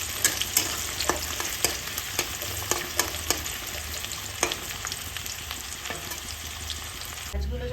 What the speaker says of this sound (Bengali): পেঁয়াজগুলো যতক্ষণ ভাজা হচ্ছে